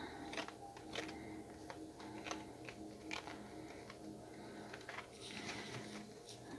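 Dense, crisp shuffling of oracle cards: quick papery riffles and soft slaps repeating steadily, close by, with faint background noise throughout.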